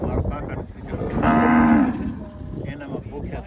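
Cattle in Kutch call out in a drought, with one loud, drawn-out moo rising clearly over a low murmur of the herd and rustling background noise.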